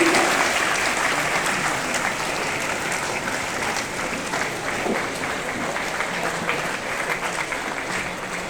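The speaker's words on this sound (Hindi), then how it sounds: "तालियों से स्वागत करें माननीय मुख्यमंत्री जी का।" An audience applauds to welcome the Chief Minister, Nitish Kumar, at a ceremony handing out joining letters to newly appointed assistant professors. The clapping is steady and dense, and lasts throughout.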